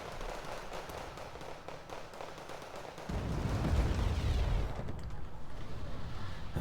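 A Tornado IDS bombing run in a war video game: a rumbling roar of blasts and crackling detonations swells midway and stays loud and dense, with muffled distant booms beneath.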